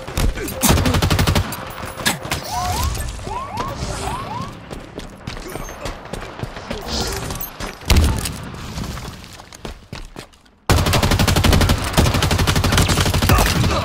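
Rapid gunfire bursts and explosions in a Halo Infinite objective multiplayer match, dense overlapping shots and booms with brief pauses, loud and close, with game announcer voice lines mixed in.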